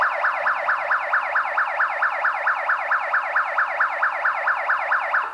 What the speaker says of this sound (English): Alarm post alarms. Detector and alarming works well.